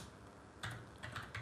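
Quick bursts of typing on a computer keyboard, a few clustered clicks after a quiet start, close and alone with faint room hiss.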